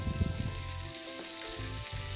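Steady sizzling and crackling from butter melting in a hot frying pan on an induction hob, with a low rumbling hum underneath and no voices.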